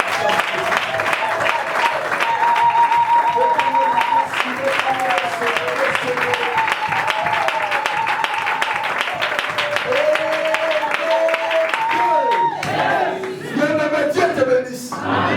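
A church congregation applauding and cheering in acclamation, clapping continuous under voices and sustained sung or shouted tones.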